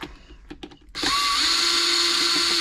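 A power screwdriver whirs steadily at close range after a few light clicks and taps, backing screws out of the casing of a Janome Memorycraft 3000 sewing machine during servicing.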